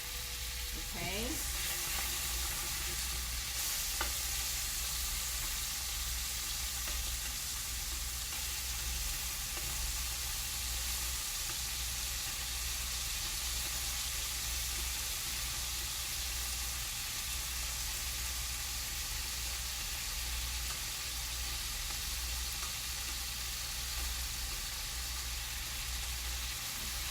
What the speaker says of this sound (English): Because these slices are so thin, they pretty much cook as soon as they hit the pan.